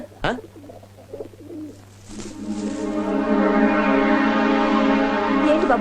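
A pigeon coos softly in a movie scene, a low repeated murmur running under steady background music, with a brief voice heard near the start.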